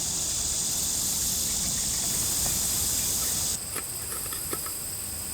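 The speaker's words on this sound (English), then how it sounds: "Starting to come to a boil here." Water heating toward a boil in a pot on a compact camp stove gives a steady close hiss and rushing roar, then drops to a quieter simmer partway through with faint ticks and bubbles.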